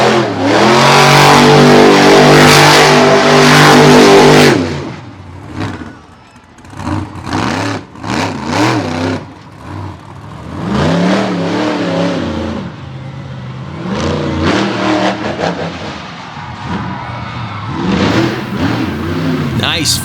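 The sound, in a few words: Ford truck engine revving while cutting a donut in loose soil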